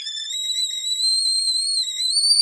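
Tea kettle whistling as a looped sound effect, a steady, piercing high tone holding without break and slightly wavering in pitch, alone with no other sounds.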